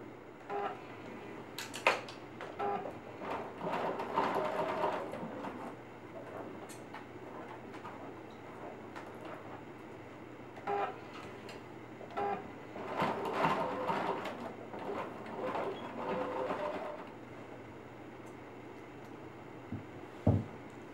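A sewing machine stitches Velcro onto fabric for a tablet sleeve, running in short close bursts of rapid needle clatter separated by brief pauses, over a low steady hum.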